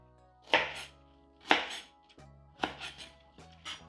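A knife chops through scallion roots on a cutting board: four sharp, separate thunks at roughly one-second intervals, close and clear against a quiet room.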